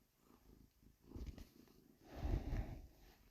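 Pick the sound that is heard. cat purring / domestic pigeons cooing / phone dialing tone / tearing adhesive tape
cat purring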